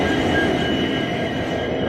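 A train passes at a railway station, close by, with a loud, continuous rumble and rolling wheel noise that fills the moment without pause.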